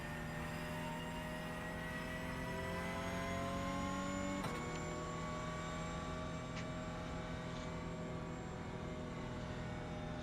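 Porsche Cup car engine in iRacing at Suzuka, a steady loud drone of rising harmonics as it accelerates down the back straight, with a brief gear-shift break midway before the note climbs again; no talk.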